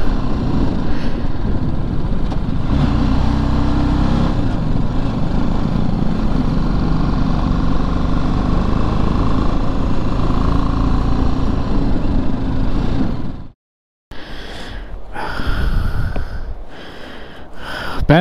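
A motorcycle engine labours loudly and steadily while riding through sand beside a river in the Nubra Valley, then drops out abruptly and returns weaker with sputtering pauses.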